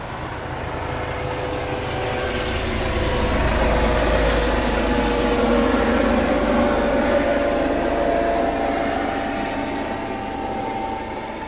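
A helicopter passes overhead with a steady broadband roar that builds and then eases away. The sound is loud and continuous, and no one speaks over it.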